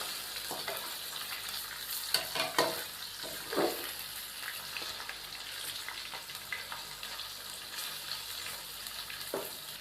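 Chicken fried with ginger garlic paste for pulao, a steady close sizzle with scattered stirring scrapes and occasional louder pops, continuous throughout and free of speech.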